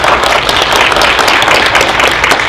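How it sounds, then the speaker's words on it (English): A public audience applauds at a city council candidate forum held in a Baptist church, a loud, continuous wash of clapping that holds steady from start to finish. "so if we can give a round of applause from everyone"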